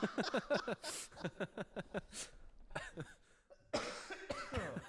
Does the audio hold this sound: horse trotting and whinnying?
no